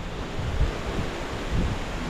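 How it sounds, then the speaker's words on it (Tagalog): Strong wind buffets the microphone in a continuous roar with gusty low thumps, no voices. "Lakas ng hangin ah."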